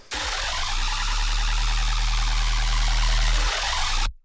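A thick, heavily distorted tearout bass synth made in Serum 2, run through a full effects chain, drones loudly for about three and a half seconds, gritty and buzzing with a deep low end, then cuts off.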